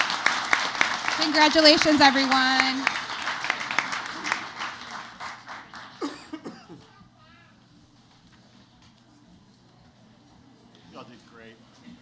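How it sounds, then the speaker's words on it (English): An audience at a school board of education meeting gives the evening's winners a round of applause. Clapping and chatter mix under a spoken voice at first, then thin out and fade to a quiet room after about six seconds. "One final round of applause for tonight's winners."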